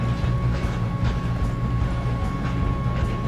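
Train rolling along in the Red Dead Redemption 2 game, a steady, dense low rumble with faint rhythmic rail clatter running unbroken throughout, with no voices over it.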